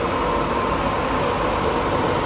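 A VTEC train to London King's Cross departs Wakefield Westgate station on the East Coast Main Line. A dense, steady, loud engine rumble and rolling noise fills the whole moment, with no talking.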